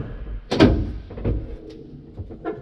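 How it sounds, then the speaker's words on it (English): Vehicle door being opened, with a sharp metallic clunk of the latch and a few softer knocks and rattles after it, close by and with no talking. "And just open the door up."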